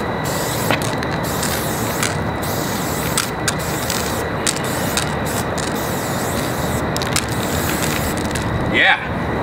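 A Molotov Premium spray paint can fitted with a Jiffy Cap hisses in a loud, continuous blast, broken by brief gaps as the nozzle is released and pressed again, with voices talking over it.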